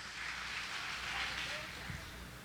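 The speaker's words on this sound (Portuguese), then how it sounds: "Fica tranquilo que a chuva já vai parar." Steady rain falls as a dense, even hiss throughout, continuous and moderately loud with no breaks.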